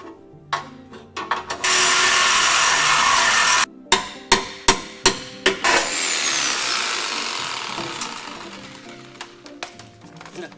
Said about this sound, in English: you can take anything apart with a hammer and a sawzall